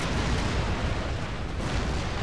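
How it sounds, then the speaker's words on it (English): Cannon fire rumbles through a battle in Empire: Total War (Darthmod, Mughal campaign against Poland-Lithuania), a dense, continuous roar of booms and blasts filling the whole moment. "Cannon!"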